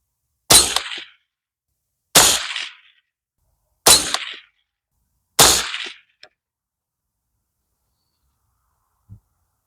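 Four loud, sharp rifle shots from a Bear Creek Arsenal .22 Magnum upper, evenly spaced about a second and a half apart, each with a brief decaying tail, followed by a couple of faint clicks.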